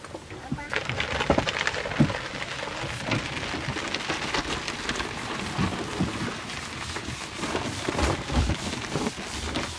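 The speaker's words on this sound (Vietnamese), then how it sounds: "Rồi mưa tới luôn chứ" Rain pours steadily outdoors in the Vietnamese countryside, a dense, even hiss of drops hitting surfaces that swells from a sudden start and continues without letting up, with faint distant rumbles.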